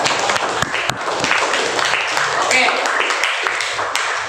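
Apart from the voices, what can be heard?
applause for a group of students in class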